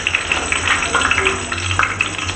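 Vegetables frying in hot oil, a close, loud continuous sizzle with crackling pops and occasional stirring scrapes.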